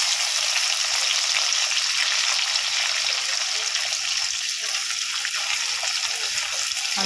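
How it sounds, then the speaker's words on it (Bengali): Two large onions fry in hot oil with whole cloves, black pepper and bay leaves, giving a loud, continuous close-up sizzle with soft stirring textures throughout. "হালকা লাল করে ভেজে নেব।"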